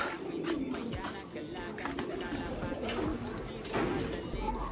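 Pet pigeons coo repeatedly in low, soft, rolling calls at their coop in the evening, close by, with a person talking over them.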